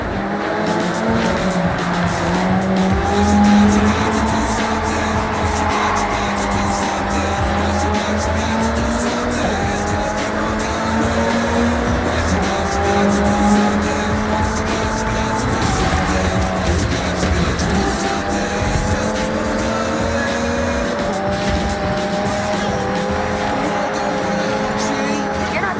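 Race cars in the Forza Horizon 6 video game roar continuously, with droning engines rising and falling in pitch and repeated tire squeals, steady and loud throughout.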